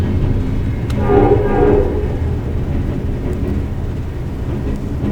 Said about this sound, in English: Please excuse the train passing in the background.